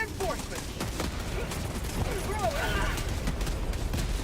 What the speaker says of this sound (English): Walking barrage is still going.